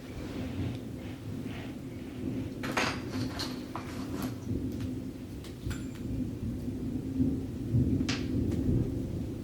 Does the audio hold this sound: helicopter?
no